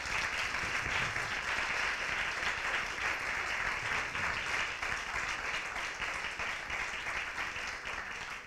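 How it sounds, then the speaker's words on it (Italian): Sustained audience applause at an Italian Women in Sciences event, honoring members of the organizing committee; dense, steady clapping from many hands for the full duration, with no speech over it. "a cui chiedo di fare un applauso"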